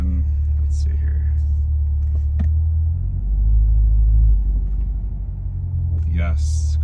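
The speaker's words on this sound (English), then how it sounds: "Yes, goes forward in first gear." A brand-new 2023 Corvette C8 3LT with a faulty transmission creeps forward in first gear, its low engine rumble steady and close, swelling slightly midway, with brief voices over it.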